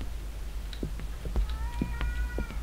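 Cat meows heard inside the video game Erie: several short, mid-pitched meow-like calls with soft thumps, rising near the end over a steady low background hum, with no talk.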